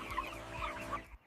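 Chickens cluck softly in a steady, murmuring chorus inside an indoor rearing house, with a few brief louder clucks standing out over a constant low hum.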